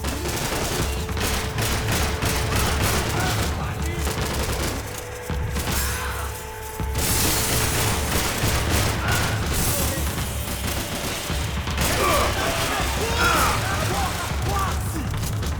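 Gunfire in the Max Payne 3 video game, with rapid bursts and repeated loud shots through most of the stretch and a short lull, while someone talks over the action.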